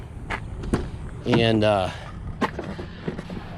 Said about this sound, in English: I'm gonna fire this guy up